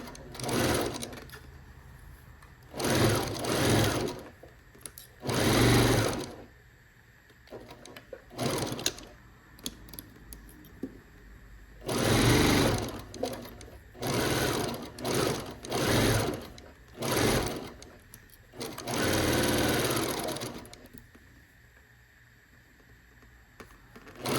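A sewing machine stitches a quilt block seam with a quarter-inch seam allowance, running in repeated close, loud bursts of rapid whirring separated by short pauses.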